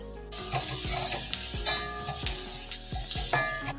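Chilli, turmeric and grated coconut sauté in oil in a pan for a potato and okra stir-fry. A spatula clacks rhythmically against the pan, about twice a second, over a close, bright sizzle.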